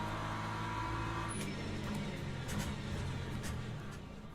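An LMP2 prototype race car approaches during a 24-hour endurance race at Sebring, its engine rising out of a steady in-car road roar as it closes in from behind.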